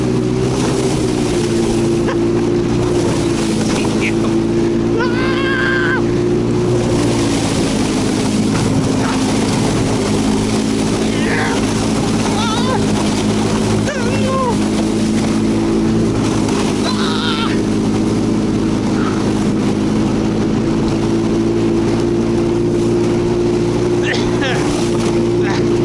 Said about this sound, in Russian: Не газуй, Серега!